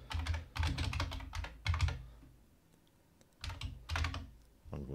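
Rapid keystrokes clatter on a computer keyboard as a file name is typed, coming in three quick bursts separated by pauses, close and crisp with no talking.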